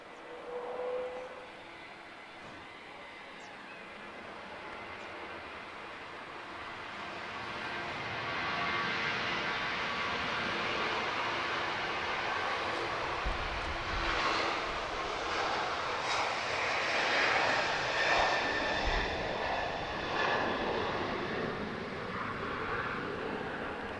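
Boeing 737-8 jet operated by Malta Air for Ryanair at Lisbon Airport, its engine roar building steadily from a distant rumble to a sustained loud broadband whoosh as it passes, with no talk.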